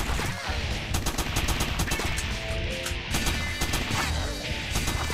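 Assault rifle gunfire in the top-down shooter Crimsonland: a relentless, dense stream of rapid shots and impact crashes, loud and continuous for the whole span.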